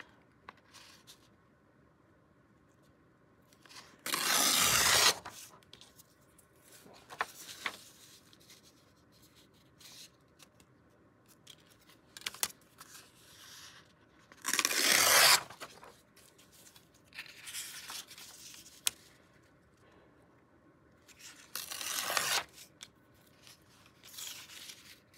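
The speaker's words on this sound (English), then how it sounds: "Tear this side first." Three loud, long rips of material torn by hand near 5, 15 and 22 seconds, separated by quieter rustling, handling and scratchy small noises.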